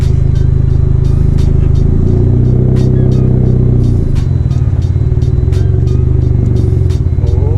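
A turbocharged Mazda Miata pulls away, its engine loud and close with a rough, clattering drone and rhythmic pulses that keep up without a break.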